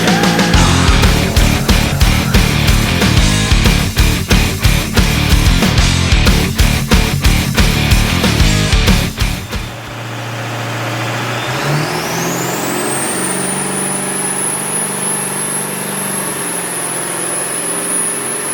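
A 7.3 Powerstroke diesel in a Ford Excursion with a Garrett GT38 turbo runs on a dyno: loud, steady pulsing roar, then a rising turbo whine that climbs and holds as a high, sustained whistle.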